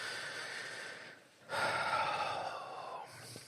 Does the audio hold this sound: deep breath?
yes